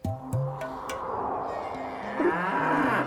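Buffalo mooing in a lively street setting, a few low drawn-out calls over a steady background of crowd noise and bustle, fairly close and loud.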